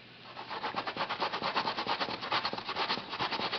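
Yautía root rubs against a hand grater in quick, even back-and-forth strokes, a rough rasping scrape repeating several times a second, close and steady with no talk.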